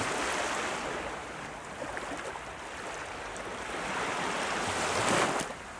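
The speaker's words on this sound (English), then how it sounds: "The gentle echo of the sea's surf can be heard in the distance." Ocean surf rolls in the distance as a continuous soft wash of breaking waves, with one wave swelling a little louder near the end.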